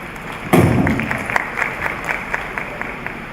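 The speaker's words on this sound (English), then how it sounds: "For that powerful speech, give her another big round of applause." Audience at a British Way English Academy convocation in Polonnaruwa bursts into applause after a speech, a loud sudden onset that quickly thins into scattered individual claps.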